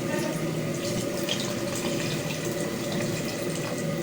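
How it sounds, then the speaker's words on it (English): Water is poured from a jug into a cooking pot of beef with blended spice paste for taro-root beef curry (arvi gosht). A steady, continuous splashing pour runs the whole time at moderate volume. "Now add 2 jugs of water."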